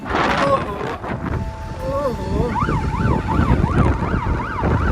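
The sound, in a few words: siren sounding on the vlogger's motorcycle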